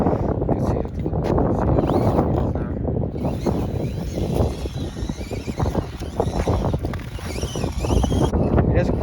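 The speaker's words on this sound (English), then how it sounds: "It is quite windy," Gusty wind buffets the microphone outdoors while a mini RC crawler is driven, a roaring, rumbling noise throughout as a person speaks over it.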